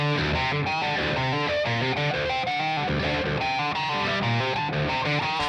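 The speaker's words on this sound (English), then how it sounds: "you put a bunch of distortion on it. It's deeper. It's deeper in tone and pitch" A heavily distorted electric guitar in drop D tuning plays low, chugging riffs with a thick, dark tone, steady and loud throughout with no voices.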